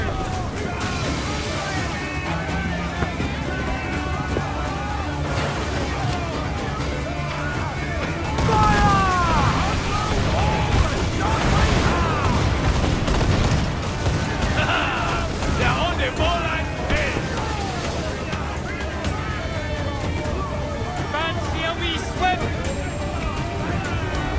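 Cannon and gunfire in a naval battle in Assassin's Creed IV: Black Flag, with booming blasts and rumbling impacts, a louder burst midway, under shouted voices and a continuous battle din.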